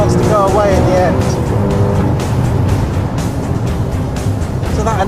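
A Porsche Boxster S and a Porsche 911 of the 991 generation launching and accelerating hard, with loud rising engine roar and tire noise that fills the stretch, while a voice talks over it.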